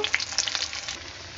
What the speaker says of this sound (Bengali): আমি আলুটাকে ভাজছি, তেল বসে কড়াতে তেল দিয়েছি, তেল দিয়ে আলুটাকে ভেজে নেব।